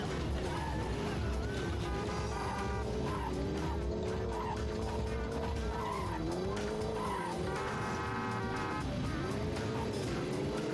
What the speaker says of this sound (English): let's drive up there and get that car before the police get to it.